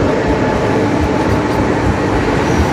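An EP07 electric locomotive hauls an Intercity train departing Wrocław Główny station, giving a loud, steady rolling rumble with rail noise.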